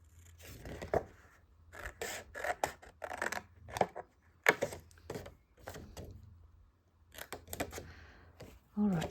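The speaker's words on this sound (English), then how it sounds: "I'm just going to go over here now and cut the other 2 panels" Scissors snipping through paper panels while making a handmade 6x8 envelope, a series of close, irregular cutting and scraping bursts with brief pauses between strokes.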